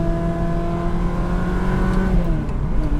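Ferrari 360 Spider engine with a manual gearbox revving hard and close during a heel-toe downshift, a loud sustained howl whose pitch holds and then sweeps downward toward the end.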